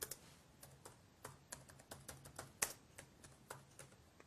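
Typing a sentence on a computer keyboard, with a soft, steady run of light key clicks at close range and one sharper tap midway, with no talking.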